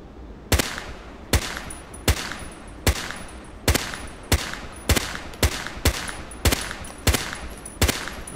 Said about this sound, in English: Now one shot.